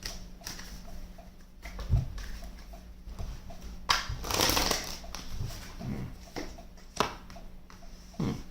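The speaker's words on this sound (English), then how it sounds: "After I shuffle, of course." Tarot cards being shuffled by hand, soft irregular riffles and papery slaps with a few sharper bursts, close and quiet with no talking.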